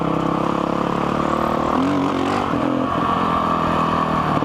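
Honda CRF dual sport dirt bike ridden along dirt roads in a national forest, its engine droning steadily and close with a brief rise in revs midway, under wind rush.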